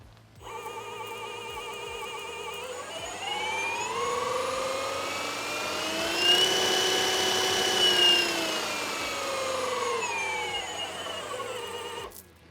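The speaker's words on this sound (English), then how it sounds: "The variable speed switch starts from 600 RPM all the way up to 2200 RPM, which I'll show you now." A Milwaukee M18 FUEL high-speed drain machine starts up and runs with variable speed from 600 to 2200 RPM, its motor whine climbing in pitch, holding high, then easing down before shutting off, loud and close with no voices.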